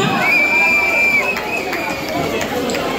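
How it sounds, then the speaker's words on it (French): Crowd at a school closing and prize-giving ceremony cheers and whoops for the top pupil, a dense steady roar of many voices with a high shrill whistle-like shout rising above it throughout. "On encourage l'enfant par nos acclamations"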